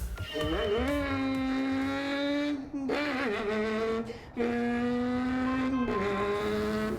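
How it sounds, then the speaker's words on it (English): A race car in Gran Turismo 7 gives a faint, vacuum-cleaner-like whine with steady tonal layers that slide up and down in pitch and drop out briefly between gear shifts. "It is really weird to race this car as it doesn't say anything other than a very faint vacuum cleaner sound"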